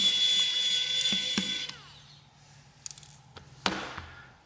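Small screws being removed from a Maxwest Nitro N62 phone during a teardown, a high whining electric screwdriver for about a second and a half, then quiet small clicks and rattles as the screws come free.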